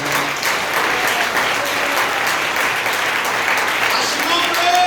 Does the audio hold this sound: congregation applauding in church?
yes